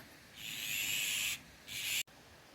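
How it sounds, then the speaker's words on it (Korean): A bird calls in the countryside during the rainy season, giving two drawn-out, high, hoarse calls in a row, the first longer than the second, over a quiet background. "이 새가 뭐야? 때까치야?"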